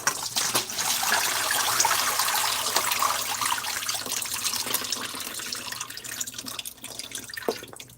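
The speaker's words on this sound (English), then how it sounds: "I like to use my stainless steel one, and then I just dump it through. So I'm just going to drain this right now." Water from cooked apples pours steadily through a stainless steel strainer, a loud continuous splashing rush that thins toward a trickle with scattered drips near the end.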